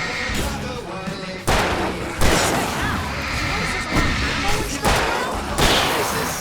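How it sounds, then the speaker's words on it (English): Fireworks going off during a battle in the video game Alan Wake Remastered, a loud string of sharp booming bursts and crackling blasts at irregular intervals, mixed with game chaos and voices. "I can set off 4 of the fireworks from here and help you out!"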